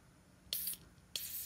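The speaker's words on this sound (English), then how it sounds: "now we're gonna spray in the hole." Cleaner is sprayed from an aerosol can into a hole on a Troy Bilt sickle-bar mower: two short, sharp hissing bursts, each about a quarter second long and close to the microphone, in an otherwise quiet space.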